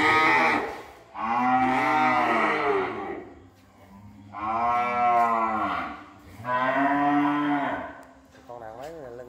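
Cattle of a cream-colored 3B breed lowing on a cattle farm, with three long, loud, drawn-out moos in succession and a shorter call at the end, no talking.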